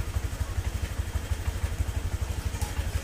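A motorcycle engine idles close by with a steady, rapid low-pitched chug and rhythmic pulsing that never changes pace, heard alone without any voices.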